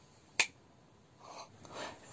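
A single sharp finger snap, close and crisp, followed by quiet rustling.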